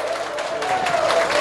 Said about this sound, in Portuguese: vamos aplaudir o nosso próximo prefeito, doutor Félix